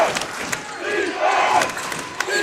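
Crowd at a Division II high school basketball final roaring and cheering continuously in an indoor gym, loud and sustained, with scattered shouts rising above the crowd noise.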